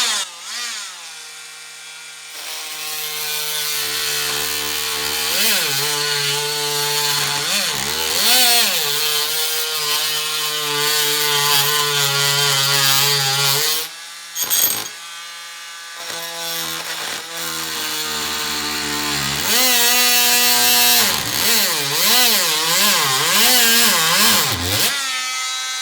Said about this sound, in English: I'm going to use a Dremel cut-off tool just to see if we can